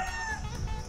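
A chicken clucks nearby in a rural outdoor setting, making a few short, bright calls over low background noise.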